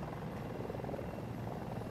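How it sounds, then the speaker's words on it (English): Helicopter flying in the shooter video game Battlefield 2042, a close, continuous rotor thrum with a steady rhythmic beat and no voices over it. "Helicopters in Battlefield are really hard to steer."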